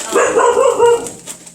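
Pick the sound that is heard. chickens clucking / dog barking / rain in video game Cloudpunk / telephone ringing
dog barking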